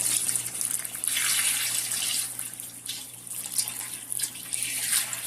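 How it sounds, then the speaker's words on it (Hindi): About two litres of water poured steadily into a pot of veal for nihari, a continuous splashing gush at close range that lasts the whole stretch with slight surges and no talk over it. "तो अभी हम इसमें पानी ऐड करेंगे"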